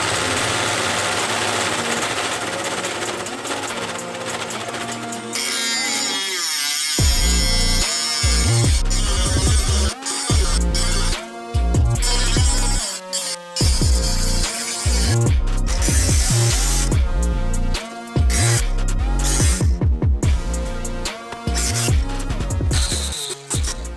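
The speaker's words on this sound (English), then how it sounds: "So I think I'm gonna drill right there." A power drill whines loudly up close, starting and stopping in repeated bursts as it revs and grinds through the center console of a Honda Del Sol.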